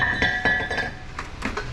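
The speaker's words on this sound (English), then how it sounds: "It's the extended reach hammer" An extra-long extended-reach hammer taps metal on a fixed quad-piston brake caliper on a 2020 Toyota 4Runner, giving a handful of sharp, ringing clinks at a steady rhythm, close up with no talking.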